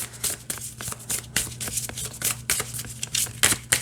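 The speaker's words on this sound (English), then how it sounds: "Yeah, I don't have a problem with how it shuffles." A deck of oracle cards is shuffled with quick riffling and flapping bursts, close up, over a steady low hum in the background.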